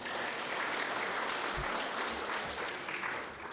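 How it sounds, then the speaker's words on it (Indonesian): Sustained applause fills a church congregation during a Sunday service, a dense steady wash of clapping from many hands lasting throughout at an even, loud level. "Tepuk tangan untuk Tuhan."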